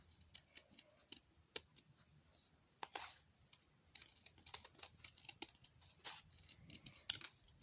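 Scissors snip through book paper to cut a petal shape, a quick irregular series of close, crisp cuts and rustles at low volume.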